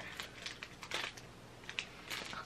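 A plastic Tsum Tsum mystery pack wrapper is torn open by hand, making faint, close crinkles and several short rustling rips that come in irregular bursts.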